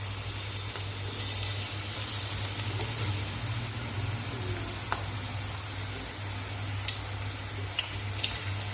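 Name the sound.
ragi onion pakoda dough frying in hot oil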